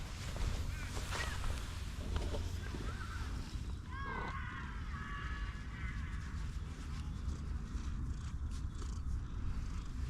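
A cat purrs aboard a narrowboat just after the engine is switched off, a steady close low rumble throughout, with a brief chirping call near the middle.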